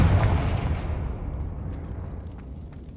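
A Confringo spell blast in Hogwarts Legacy, one heavy booming explosion that hits at the start and fades into a long rumbling decay over about three seconds.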